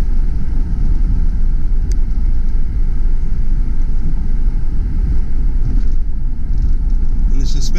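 A 1997 Pontiac Firebird Formula with a 5.7L V8 accelerating on the road, heard from inside as a steady, loud low rumble with road and wind noise throughout.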